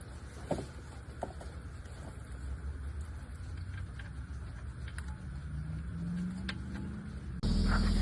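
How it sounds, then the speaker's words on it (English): A 2014–2016 BMW 428i engine runs steadily after starting, a low continuous hum with a faint rising whine, heard alone at moderate distance. "All right guys, so I've got the vehicle started."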